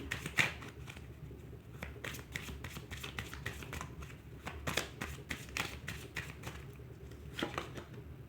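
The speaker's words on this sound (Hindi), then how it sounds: "मैं आपके लिए यहाँ पे कार्ड्स चेक कर लेती हूँ जुलाई के लिए" Tarot cards handled and shuffled at close range, giving soft repeated riffles and flicks at a steady pace, quiet against a low background hum.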